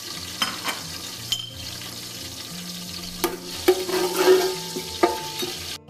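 Whole spices fry in oil and ghee for a large pot of chickpea pulao, with a soft ongoing sizzle and scattered close knocks and stirs of a spoon, busier near the end.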